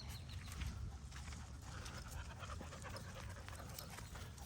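A dog pants steadily and quietly in a continuous rapid rhythm, somewhat distant and faint, heard on its own with no talking.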